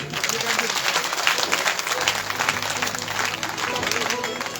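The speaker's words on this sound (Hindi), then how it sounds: "एक बार एक दूसरे के लिए आप जोड़ लगा करके ताली बजा दें।" An audience at an eight-day Shiv Amrit Katha religious discourse in Yamunanagar, Haryana, claps together in sustained, dense applause that fills the hall, with a voice briefly heard over it.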